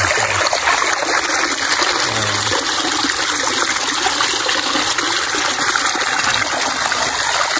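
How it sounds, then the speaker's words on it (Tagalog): Cold, clear water flows steadily on its own from a pipe driven into the ground at a rural spring, making a continuous, close gushing and trickling sound with no talk. "Tubo kasi to nila tinarak sa lupa tapos yan, nagpo-flow na kusa yung tubig."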